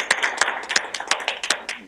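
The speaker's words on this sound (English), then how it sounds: "tremendous thunderous applause for Sara and your library." Sparse, distinct hand claps from a small number of people, a quick irregular patter of about a dozen close, crisp claps with no talking.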